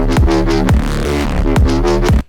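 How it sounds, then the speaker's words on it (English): Aggressive neuro-funk synth basses, one from Vital and one from Phase Plant, trade call-and-response phrases over a punchy kick drum, loud and dense with wobbling harmonics, with four sharp kick hits before everything cuts off abruptly. "you're going to hear the Vital bass, followed by the Phase Plant bass"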